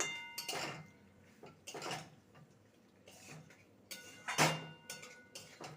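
Cauliflower stirred with ground black pepper in a pan for malai cauliflower, a series of quiet, close spoon scrapes and metallic clinks spaced a second or so apart, without speech.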